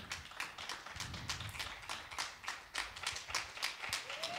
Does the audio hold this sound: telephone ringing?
no